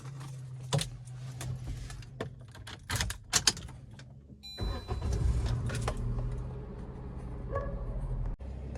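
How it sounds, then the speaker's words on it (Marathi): A tempo vehicle with a weak battery: keys jangle and clicks sound before the engine cranks and catches midway, then settles into a steady close idle, with a few knocks along the way. "मग गाडी चालू करतो"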